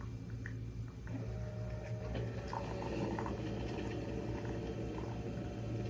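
Coffee maker brewing dark roast coffee, a steady loud gurgling, hissing and bubbling that runs continuously without talk.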